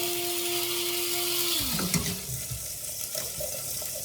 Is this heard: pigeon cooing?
no